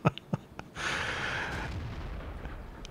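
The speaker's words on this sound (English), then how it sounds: "there's the artillery, and watch this" Artillery shell in World of Tanks: a few faint clicks, then one sudden booming blast that carries a bright rushing roar for about a second before decaying into a low rumbling tail, heard alone without talk.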